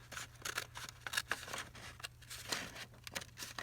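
Scissors snip around paper for an envelope pocket junk journal, a quick run of close, crisp cuts and light paper rustles with a low steady hum underneath.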